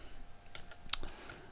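Rapid keystrokes on a computer keyboard while C++ code is entered, a short burst of close, light clicks with one sharper tap, alone without talking.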